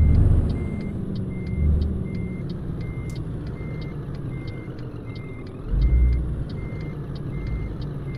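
Reversing beeps from a Scania truck in a driving simulator game, a steady evenly spaced series of short beeps over a continuous low engine rumble that swells briefly twice.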